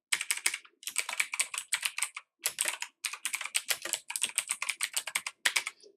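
Rapid, loud keystrokes on a computer keyboard while code is entered, coming in dense bursts separated by short pauses, close and clear with no voice.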